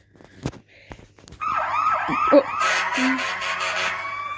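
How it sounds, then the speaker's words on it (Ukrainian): Fire engine sirens wail as emergency vehicles arrive in a Minecraft game, a rising and falling electronic tone that swells in after a few scattered clicks and stays loud and steady to the end. "О, пожежні приїхали. І їх багато."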